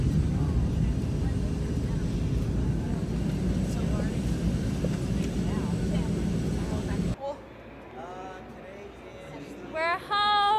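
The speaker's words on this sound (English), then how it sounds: "We just boarded our flight to Philly." Airplane cabin noise on a flight from Los Angeles to Philadelphia: a steady, loud low engine roar fills most of the stretch, then it cuts to a quieter room where voices speak briefly near the end.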